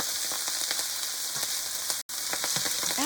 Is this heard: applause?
no